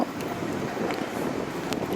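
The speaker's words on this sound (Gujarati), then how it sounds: "પવન છે એટલે વાળ બહુ ઉડે છે" Wind blows steadily across the microphone with a low rushing roar, a few faint brief clicks scattered through it.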